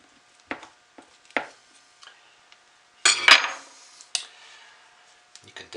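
A knife cuts through a soft, freshly made loaf of soap containing oatmeal, with a few separate sharp cutting scrapes and knocks, one longer louder stroke near the middle, close and clear with no talk.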